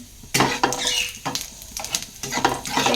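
Dry chili, bay leaf, cardamom, cinnamon and cumin seeds sizzling in hot mustard oil, loud crackling hiss that flares in bursts as the spices are stirred and scraped in the pan.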